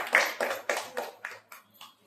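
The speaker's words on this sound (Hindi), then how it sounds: "ओके, एक जोरदार ताली बजाइए।" A congregation at a Sunday church service claps in a short burst of about eight even claps that fade steadily in loudness, heard fairly close.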